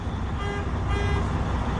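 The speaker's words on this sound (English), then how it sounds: "electric horn" A truck's electric horn sounding inside the cab during a pre-trip check, one sustained steady honk held for nearly two seconds over a low idling rumble.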